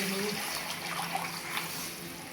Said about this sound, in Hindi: ये देखिए मैंने पानी का 1 बोल डाल दिया,